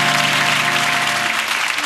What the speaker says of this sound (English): a big round of applause for Alexander and Vera